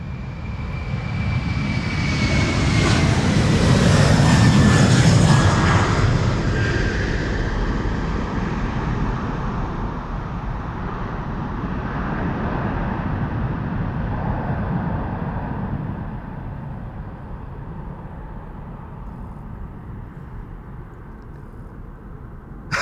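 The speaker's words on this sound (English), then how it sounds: "It's an A330-200, the PHAOB going to Washington." An Airbus A330-200 takes off from the Polderbaan runway at Amsterdam, a loud broad jet roar that swells to a peak within seconds as the engines spool, then slowly fades and thins as the aircraft climbs away.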